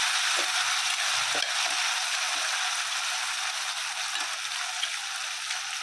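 Spice paste for stuffed brinjal (gutti vankaya) frying in hot oil in a home kitchen, a steady, even sizzle and hiss with a few faint clinks, no talking.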